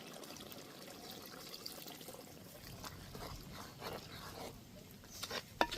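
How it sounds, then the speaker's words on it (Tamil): Water is poured into a pot of country chicken curry, making a faint, quiet trickle and splash with small clinks near the end. "இதோடு என்ன செய்ய போகிறோம்னு சொன்னால் தண்ணி கொஞ்சம் விடுவோம்."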